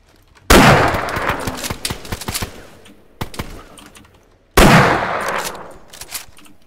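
Loud gunshots from the survival video game DayZ, two sharp close blasts several seconds apart, each followed by a decaying echoing tail and scattered smaller cracks, with no talking.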